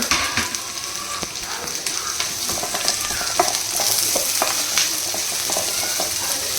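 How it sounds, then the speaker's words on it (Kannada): Chopped onions frying steadily in a pan over a village home stove, a continuous bright sizzle with occasional clicks and scrapes of stirring, close and fairly loud throughout with no talking. "ಬಣಲೆಗೆ ಆನಿಯನ್ ಹಾಕ್ತಾ ಇದ್ದೀನಿ ಇದನ್ನು ಇವಾಗ ಚೆನ್ನಾಗಿ ಫ್ರೈ ಮಾಡ್ಕೊಳ್ಬೇಕು"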